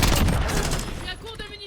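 Gunfire bursts in the video game Warzone, a dense fusillade of rapid shots that starts loud and gradually thins and fades toward the end.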